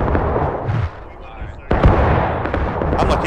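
Musket gunfire on a Civil War battlefield in the War of Rights game, with a sharp nearby shot cracking out after a stretch of distant battle rumble, with voices talking alongside.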